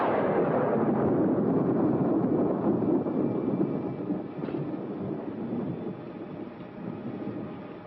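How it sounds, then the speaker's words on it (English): Deep, sustained rumbling roll of thunder, loud and close at first, slowly fading with a continuous low grumble. "another stormy weekend"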